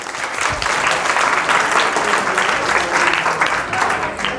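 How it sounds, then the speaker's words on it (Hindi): An audience at a career-counselling event applauds a doctor warmly, loud dense clapping sustained evenly for several seconds without talk over it. "डॉक्टर अमित के लिए एक बार जोरदार तालियां।"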